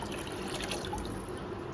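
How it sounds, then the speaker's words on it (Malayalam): Water pours into a pot for cooking ghee rice, a steady, even splash that runs unbroken for a couple of seconds. "അപ്പൊ വെള്ളം ഒഴിക്കാം."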